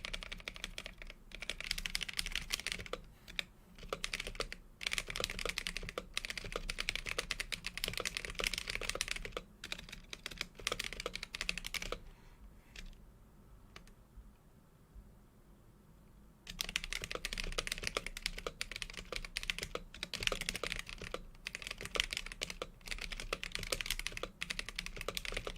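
Steady, fast typing on a custom-built mechanical keyboard, close and dense with clacks, that stops for a few seconds of near quiet and then resumes at the same brisk pace.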